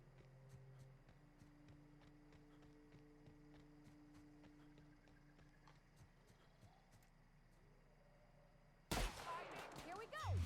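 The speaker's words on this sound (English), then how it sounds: "this is a shotgun" Shotgun firing in The Outer Worlds video game, a single loud blast near the end that breaks a quiet stretch of faint ambient game sound and light footstep-like clatter.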